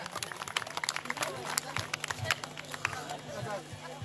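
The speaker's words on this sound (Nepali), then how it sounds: "सम्पूर्णले उहाँलाई चाहिँ एक जोरदार ताली मार्फत स्वागत गर्नु न म" A crowd at an outdoor village event in Ghiring, Tanahun, applauds a welcomed guest, with a steady patter of many hands clapping at moderate distance under a continuous background hum and some voices.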